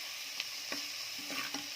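Karuvadagam spices sizzle steadily in hot oil for a sardine curry, a constant crackling hiss with a few light stirring taps.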